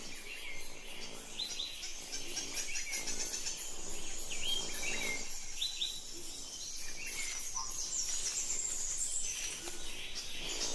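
Hummingbirds at a patch of flowers give high, rapid chirps and twitters that repeat throughout, layered over a steady insect hum in a lively outdoor setting.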